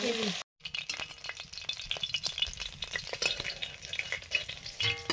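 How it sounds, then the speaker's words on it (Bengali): Fish fry in oil in a pan with a continuous crackling sizzle and scattered sharp pops and scrapes, after a momentary silence at the very start. "প্রথমবারে মাছগুলো ভাজা হয়ে গেছে, আর কয়েকটা আছে পরের বারে ভাজতে হবে"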